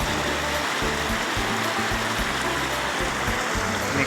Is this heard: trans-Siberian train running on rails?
no